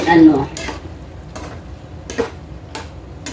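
A sautéed dish, with broth released into the pan, is stirred with a utensil that scrapes against the pan in about five regular strokes over a low sizzle, close and fairly loud.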